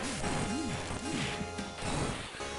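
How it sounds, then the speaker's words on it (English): Putty enemies shattering in the Genesis game Mighty Morphin Power Rangers: The Movie, a couple of crunchy smash effects over looping game music, brief and fairly quiet. "I like the shattering effect"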